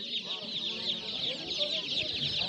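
Constant high peeping of many chicks with occasional hen clucks at a poultry market, a busy crowded chorus of birds close by.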